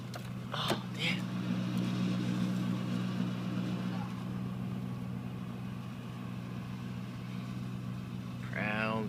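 Exhaust of a 1997 Ford Crown Victoria Police Interceptor, a steady low idling drone throughout, fairly faint, with brief bursts of people talking near the start and end.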